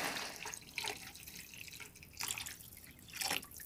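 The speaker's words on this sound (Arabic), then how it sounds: "نزوده بقى بالمية، شوية مية دافيين كده" Warm water is poured into a pot of lentils while cooking, making a faint, close trickling and splashing with a few louder surges, and no one speaks.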